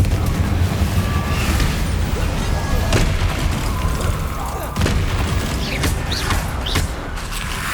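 Booming, crackling blasts of the Confringo spell in Hogwarts Legacy, several heavy impacts with splintering and creaking debris over a loud, constant game soundscape, with brief speech present.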